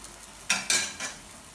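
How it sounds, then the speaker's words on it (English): Stock is poured into a simmering, slightly boiling leek, mushroom and pea risotto in a pan, giving two sharp hissing sizzle bursts and a softer third, close and brief with no talk. "A bit more stock goes in."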